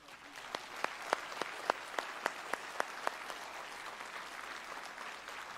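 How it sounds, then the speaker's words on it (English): A round of applause at a sheriff's office awards ceremony: an audience claps steadily through the whole stretch, with a series of sharper individual claps standing out in the first half before the clapping settles to an even patter. "So please give him a big round of applause"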